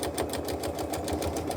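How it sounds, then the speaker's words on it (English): A sewing machine stitches a quilt with a steady, fast mechanical chatter and hum, close and continuous, with no talk over it. "Then I have my sewing machine set to put a small invisible knot at the beginning and end of each line"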